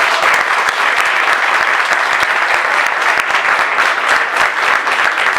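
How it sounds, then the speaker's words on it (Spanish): Loud, dense audience clapping at a science café event honouring the panelists, sustained and even from start to finish, with no voices over it. "un aplauso por favor a nuestros panelistas"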